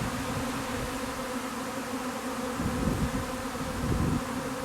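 Honeybee swarm that has left its hive, gathered near a Douglas fir, giving a dense continuous buzzing hum of many bees, steady and moderately loud, with slight swells.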